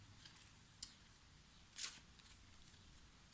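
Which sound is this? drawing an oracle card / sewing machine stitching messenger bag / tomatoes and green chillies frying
drawing an oracle card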